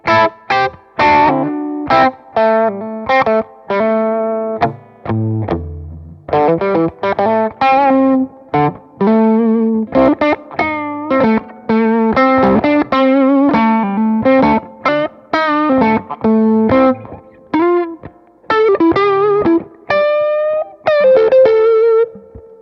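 Overdriven chords and riffs from a Gibson '50s Les Paul Standard Goldtop run through a Mjolnir pedal, a long continuous passage of rhythmic strummed hits and held notes, loud and up front without any voice.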